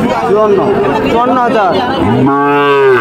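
A Sahiwal cow at a busy cattle market gives a drawn-out, nasal moo close by, its call rising and holding near the end, with crowd chatter and a nearby voice running underneath.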